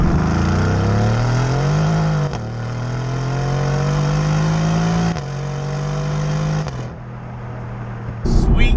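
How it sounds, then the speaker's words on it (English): A Mercedes-AMG GT R making 585 bhp accelerates hard on a B road, its loud, close engine note climbing steadily in pitch through three quick upshifts before the revs drop near the end. "Baby Jesus, this thing comes on boost, on song, like in an instant, and it wants to spin them rear wheels"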